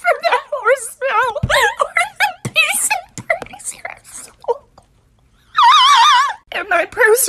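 Horse neighing in shrill, wavering whinnies, one loud sustained call standing out near the end, mixed in among overlapping voices.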